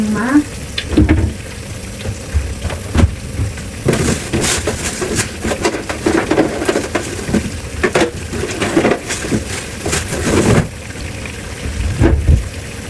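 Kale cooked laing-style sizzles loudly in a pan, with constant frying crackle and repeated stirring scrapes and clatters in irregular bursts, heard up close.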